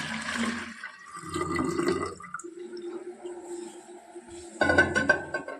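Water is poured from a pot into a pet's water bowl, making uneven splashing and gurgling bursts close by, with a louder pour near the end.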